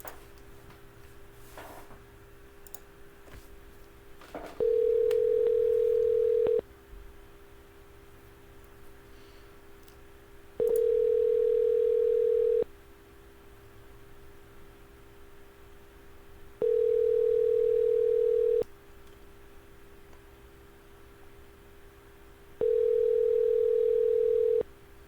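A phone call's ringback tone before voicemail picks up: four evenly spaced ring tones, each about two seconds long with roughly four seconds of quiet between, clear and steady over faint background noise.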